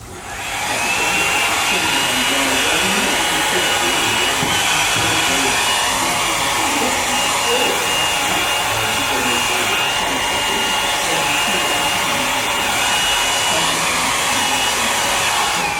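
A hair dryer runs steadily at a demo convention, a loud continuous close blowing whir that starts within the first second and holds without pause.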